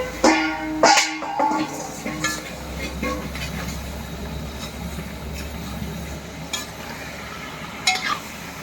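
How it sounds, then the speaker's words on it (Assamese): Pumpkin and potato curry fries in a pan with a steady sizzle, while a spoon stirs and scrapes, adding occasional louder clatters and knocks at the start and near the end. "এতিয়া চব্জিটো পুৰা কোমৰা চব্জি মিলাই আছোঁ আলুৰ লগত দম পুৰা ভাজি কৰি লওঁ"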